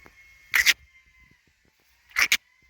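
Two short bursts of gobbling from turkeys on a livestock farm at a moderate distance, separated by a quiet pause, with faint background noise in between.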